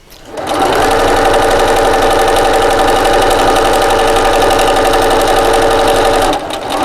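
A sewing machine runs steadily and loudly for several seconds, back stitching a purse seam, with its rapid even needle chatter starting and stopping abruptly.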